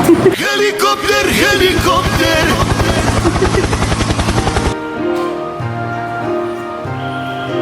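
A helicopter in Kathmandu, Nepal, beats loudly with a rapid rotor thump for several seconds before cutting off, after which music plays on.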